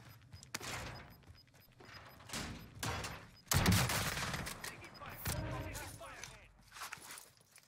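Bursts of gunfire on Rebirth Island in a Call of Duty battle royale match, several rapid volleys and single shots at close to mid range, with footsteps and mechanical clatter between them.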